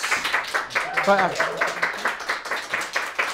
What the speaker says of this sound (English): Alex Vann, can we have a round of applause, please?